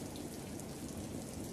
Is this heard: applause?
no